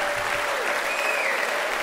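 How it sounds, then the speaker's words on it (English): Sustained crowd applause fills a Frankfurt jazz festival hall, dense and even throughout with a few faint voices beneath. "Round of applause"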